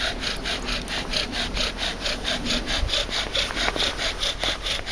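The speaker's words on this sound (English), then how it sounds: "Just doing a bit of bow drill practice." A wooden bow drill, built from wood picked up nearby, rasps in a steady back-and-forth rhythm, each stroke a scratchy rub, close and moderately quiet outdoors.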